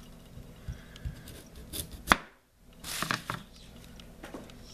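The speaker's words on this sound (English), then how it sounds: "I've cut off the end, and I'll cut off this end" A knife cuts the ends off cleaned sweet potatoes, giving a few sharp chopping knocks and scraping strokes on a board, with a loud clean cut midway and a brief quiet gap before more cutting.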